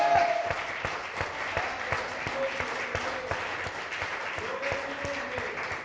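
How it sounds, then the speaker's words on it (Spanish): A church congregation applauds continuously in a dense, lively wash of clapping, with sustained keyboard notes and voices faintly underneath. "dale un fuerte aplauso al Rey"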